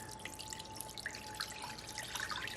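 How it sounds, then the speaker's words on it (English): Marinating broth trickles and drips quietly through a strainer, a soft continuous splashing of liquid with scattered droplet sounds, faint and close, with no voices. "Let's filter the marinating sauce."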